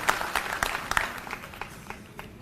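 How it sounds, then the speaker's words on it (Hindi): Audience applause at a political workers' conference, a faint patter of claps that peaks early and gradually thins out over a couple of seconds. "एक बार जोरदार तालियां हमारे सभी माता बहनों के लिए।"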